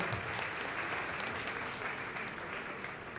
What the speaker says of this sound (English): So we give a round of applause for that